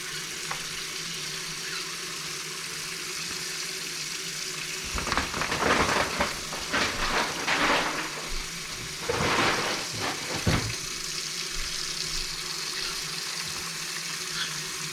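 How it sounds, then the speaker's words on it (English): Cold tap water running into a sink over crawfish being rinsed of mud, a steady hiss with louder gushing splashes in two bursts midway, then settling back to a constant flow. "I'm just going to run a little bit of cold water on them"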